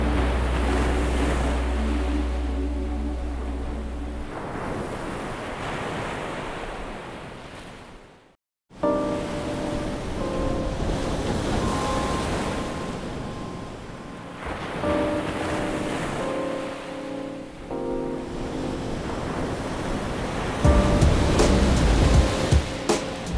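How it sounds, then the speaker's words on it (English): Pacific Ocean surf during king tides on the Oregon coast: a continuous, loud roar of breaking waves with wind buffeting the microphone, briefly cutting out partway through, no voices. "highlight the raw beauty and untamed power of the Pacific Ocean"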